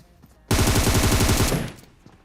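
A rapid automatic-weapon burst in PUBG Mobile, a loud, dense string of about a dozen shots lasting roughly a second before fading out.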